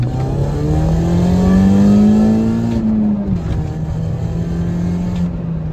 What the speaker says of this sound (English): we're driving the Cooper, and it's driving really well actually